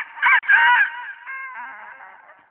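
A man imitates a rooster crowing at night, giving two strong opening bursts and then a long, wavering, fading tail, alone and close.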